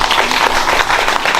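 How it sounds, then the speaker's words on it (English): Applause from an audience at a business awards event, a steady wash of clapping across the whole moment, fairly loud and close, with some voices mixed in. "Please clap for us."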